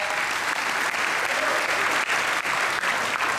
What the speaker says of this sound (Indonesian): tepuk tangan untuk Diamond Manager sekali Pangke